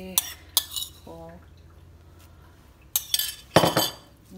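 Chopped coriander leaves are stirred in a bowl, with a few close clinks and scrapes of a utensil against the dish separated by short quiet gaps and a faint voice-like tone.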